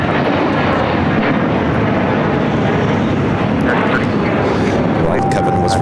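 A Boeing 777 taxis along the taxiways at Los Angeles International Airport, its jet engines giving a loud, steady, broadband roar that holds without a break at close range.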